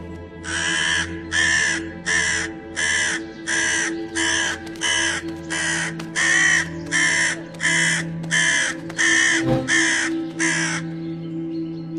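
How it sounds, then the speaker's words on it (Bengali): A crow caws loudly and close in a long run of about fourteen evenly spaced harsh calls over a low steady background hum. "আর তখনই কাক উড়ে এসে লোকটিকে খুব বিরক্ত করতে থাকে।"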